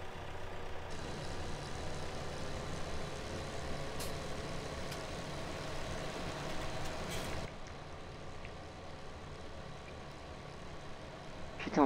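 In Farming Simulator 17, a tractor grinds on with spinning, slipping wheels, a steady droning engine rumble with a higher whine that cuts out partway through, leaving a lower hum.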